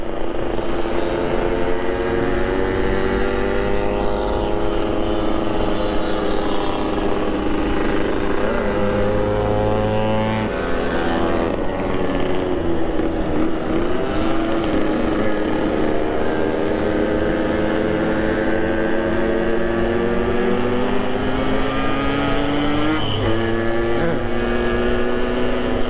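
A standard Yamaha RX King two-stroke motorcycle ridden at speed on a street in Makassar, its engine droning steadily with rising and falling pitch as gears change, loud and continuous with heavy wind noise throughout.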